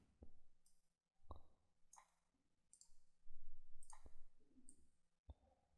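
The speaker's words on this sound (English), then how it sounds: "Double-click the original texture here, then click the modified version." A computer mouse clicks quietly at a desk, several sharp isolated clicks spaced around a second apart with faint shuffling between them, close and soft.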